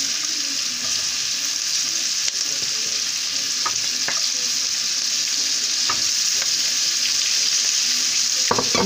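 Onion frying in a pan as it is stirred, a continuous loud sizzle broken by scraping utensil strokes and occasional clinks, with no voices.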